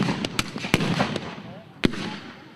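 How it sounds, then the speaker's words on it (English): Mortars fire at a reenactment of the New Zealand (Maori) Wars, several sharp, distant booms scattered across a few seconds over faint outdoor background noise. "we have some mortars."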